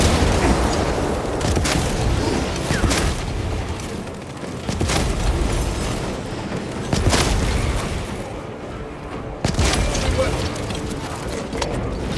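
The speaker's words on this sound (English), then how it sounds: "Deploying jump grenade." In the Space Marine 2 video game, a jump grenade goes off amid heavy combat, with loud booming blasts and gunfire layered densely under in-game voices throughout.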